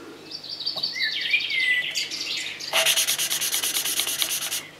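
Valves being lapped on a Husqvarna YTH150 riding mower engine: steady back-and-forth gritty rubbing strokes, close and fairly loud, with birds chirping in the background and no talking.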